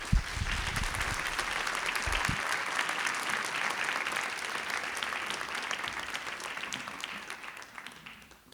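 An audience at a plenary session of a French academic conference applauds in one sustained, dense burst of clapping that holds steady for several seconds and fades slightly at the end, with no speech over it.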